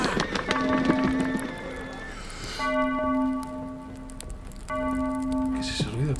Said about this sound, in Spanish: ¿Qué es ese ruido, tío? Una campana.